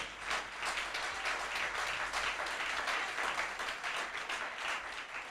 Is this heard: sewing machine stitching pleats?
no